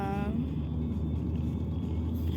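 A car on a long road trip with a child asleep inside gives a steady low rumble of engine and road noise, close and constant, with no one talking.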